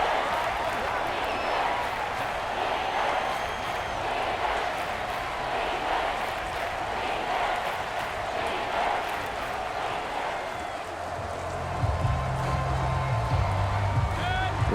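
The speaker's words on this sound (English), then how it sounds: "This crowd turning up the decibel level." An NFL stadium crowd at a Buccaneers vs. Chiefs game keeps up a steady, dense roar of cheering and noise throughout, with a commentator talking over it.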